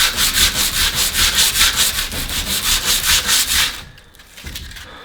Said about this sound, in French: ce que j'aimerais bien faire, c'est tout poncer